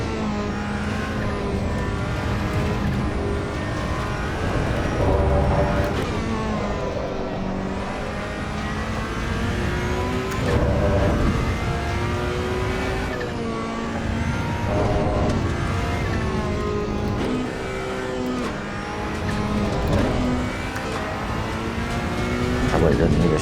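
Ferrari 488 Challenge Evo racing car in Assetto Corsa Evo at the Nurburgring, its engine repeatedly revving up through the gears with rising pitch sweeps and brief shift dips, steady and prominent throughout.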